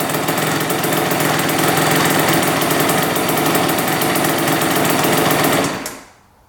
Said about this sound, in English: Idling really nice and low now.